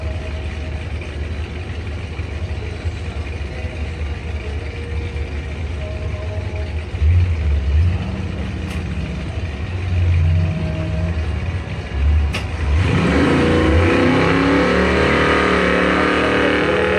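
A 2004 Chevy Colorado pickup and a Ford Mustang launch off the line in a drag race, their engines idling and rumbling before a loud roaring surge of acceleration near the end, heard up close and without voices.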